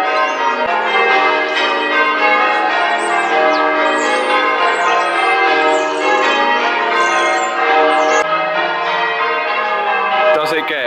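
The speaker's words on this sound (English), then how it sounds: "church bells going" Church bells ring in an evening churchyard in Ashford, Kent, with a continuous, loud, overlapping peal of clanging tones that carries on throughout without pause.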